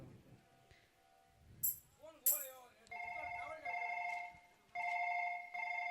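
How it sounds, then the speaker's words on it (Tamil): A telephone ringback tone plays in repeated bursts, clear and fairly close, as someone places a call to a relative to ask about an address, with a few short sounds before it. "சரி மாமாக்கே ஃபோன் பண்ணி கேட்டுருவோம்"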